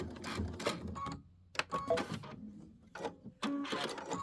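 A sewing machine runs short bursts of stitching on a quilted wall hanging, reversing for a back stitch then going forward, with quick mechanical whirring and pauses between runs.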